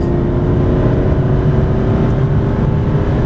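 An Aston Martin DB9 accelerating around a track, its engine a loud, steady, close roar that holds a constant throaty drone throughout with no talk over it.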